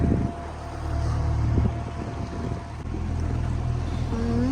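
A motorboat engine drones steadily on a leisure boat ride over shallow water. The low rumble stays continuous and fairly close, with some wind noise.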